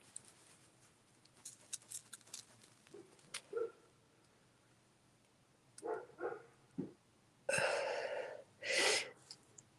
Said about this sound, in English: Barking dogs right on cue.